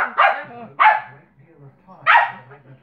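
Three sharp dog barks, close and loud, spaced irregularly with short gaps between them, the third after a longer pause; faint background sounds fill the quiet stretches.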